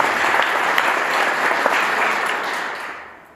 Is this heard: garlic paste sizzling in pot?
no